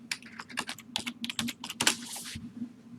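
Computer keyboard being typed on to write a short invoice message, a close, quick run of uneven key clicks with a few spaced pauses and no talk.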